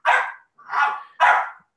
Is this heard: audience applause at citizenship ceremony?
no